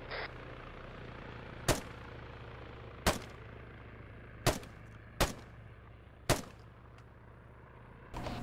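A machine gun turret fires in a military video game, heard as a few sharp single shots spaced a second or so apart over a steady low engine hum, fairly distant with no voices.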